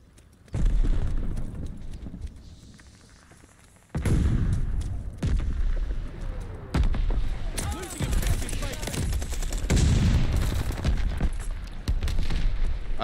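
Heavy booming blasts of incoming mortar shells in a Call of Duty Vanguard match, several loud impacts spaced a few seconds apart with rumbling tails and gunfire crackle between them.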